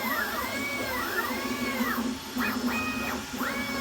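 A 3D printer runs at 180 millimetres per second while printing a small cat ball accessory. Its stepper motors give off continuous, sweeping, rising and falling whines with a steady mechanical hum beneath, close and fairly loud.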